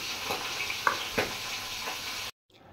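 Fish frying in hot oil for a spice-laden Bengali fish curry with drumsticks gives a steady close sizzle with a few louder crackles and pops, then cuts off abruptly near the end.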